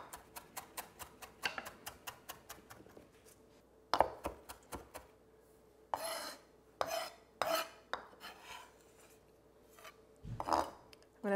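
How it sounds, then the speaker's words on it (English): A knife finely chops grape leaves with thin stems on a cutting board, a quick run of close, sharp taps followed by a few bursts of faster chopping, with no talking. "They're gonna get finely chopped."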